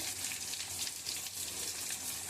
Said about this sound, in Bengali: এবার মাশরুমটা সিদ্ধ করা ছিল, আমি এটাকে এখানে ভাজা বসিয়ে দিলাম।